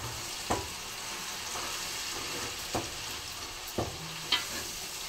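Green chillies and masala sizzle and fry steadily in a pan, with a few sharp clacks of a spoon stirring against the metal.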